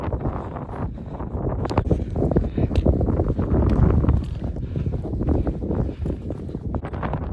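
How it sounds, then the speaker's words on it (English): Steady, heavy wind buffeting the microphone on an open hilltop, a dense low rumble with gusty surges that never lets up across the whole stretch. "I don't know if you can hear me with the wind"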